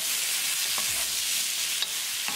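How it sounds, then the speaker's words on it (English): Meatballs and bell pepper fry in a pan on a gas stove, giving a steady broadband sizzle throughout with a few soft stirring scrapes and clicks, no talking. "Cooking meatball along with bell pepper for 2 minutes."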